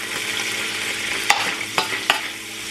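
Garlic sizzling in hot melted butter in a pan, a steady close frying hiss with a few sharp clinks of a utensil against the pan, no voices.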